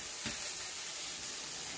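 Food sizzles steadily in a pan holding leftover sausage drippings while cooking for a sausage spinach lasagna soup, a close, even hiss and crackle throughout with no voices.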